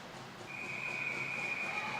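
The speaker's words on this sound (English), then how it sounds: "Whistle eventually sounds as Fullerton able to track down that puck." A referee's whistle at a CT Rangers versus Pro Hockey ice hockey game, heard as one sustained high tone lasting about a second and a half, moderately loud over the steady murmur of the arena crowd.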